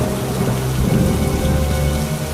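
Heavy rain pours down in a Hindi cartoon story, a loud, dense, continuous downpour hissing and drumming on surfaces, with a low rumble of thunder beneath and no speech.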